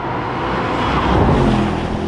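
A Mercedes-AMG GT63 coupe with all-wheel drive launching hard from a standstill, a loud dense engine roar heard from inside the car that builds steadily without a break.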